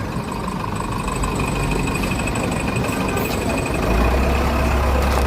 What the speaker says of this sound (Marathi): गाड्यांचा आवाज